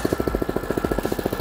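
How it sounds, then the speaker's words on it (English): A FunBikes Shark RV50 mini off-road buggy's 156cc single-cylinder four-stroke engine runs near the microphone, thumping out a fast, even chain of loud pulses with no talk. "156cc single cylinder four-stroke engine produces a top speed of approximately 20 miles an hour"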